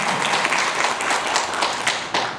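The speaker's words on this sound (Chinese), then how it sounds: "那是不是给一点掌声？" Audience at a book-reading promotion event with a professor's guided discussion breaks into steady, dense applause, a continuous wash of clapping with no voices over it.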